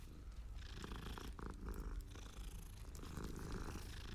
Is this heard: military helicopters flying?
no